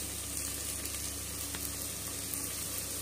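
Steady sizzling of spices and oil frying in a pan for khichdi, a continuous crackling hiss with no talking.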